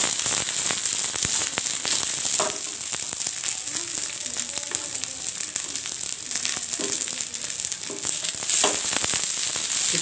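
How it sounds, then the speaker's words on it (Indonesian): Garlic, turmeric and red chili stir-frying in a pan, loud steady sizzling with scattered crackles and occasional scraping stirs, close up and without speech. "Kita gongso dulu atau kita sangrai dahulu sebentar aja."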